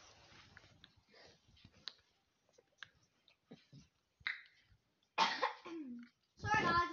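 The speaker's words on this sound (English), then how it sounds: "got a cough" Several sharp coughs from a child, scattered among quiet talk and clicks, with a louder burst of coughing near the end, close to the microphone.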